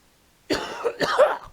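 A sudden pair of harsh, close coughs bursting out of silence, the second more drawn out and rough.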